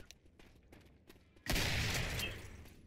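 Gunfire in Left 4 Dead 2 on a custom campaign map: faint scattered clicks and taps, then a sudden loud, sustained burst of rapid shots that slowly tapers off.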